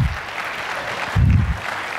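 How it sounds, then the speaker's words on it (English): An audience at a business software presentation clapping, a short burst of steady applause with a voice heard over it partway through. "If you can, please give a round of applause for them."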